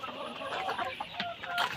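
Layer hens in a coop bedded with fresh wood shavings cluck softly in a brief, fairly quiet burst, with a few sharper calls near the end.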